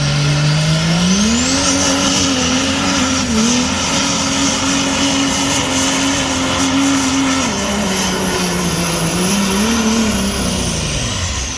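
A pulling truck engine roars loud and steady at a truck pull while hooked to a sled, its pitch rising and wavering, then holding flat as the converter locks, before sagging as the motor noses over near the end.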